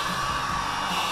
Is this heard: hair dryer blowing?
yes